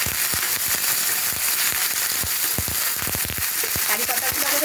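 Curry leaves drop into a hot pan of spiced onions frying for chire poha (flattened rice), giving a steady close sizzle broken by sharp, irregular crackles and pops.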